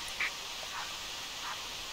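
A single gadwall duck in theHunter Classic hunting game lets out one brief quack near the start, followed by a couple of softer, more distant calls over steady outdoor ambience.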